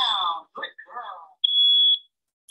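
A ceiling smoke alarm's high electronic beep rings out steadily for about half a second after brief bursts of a voice speaking, with a short earlier chirp.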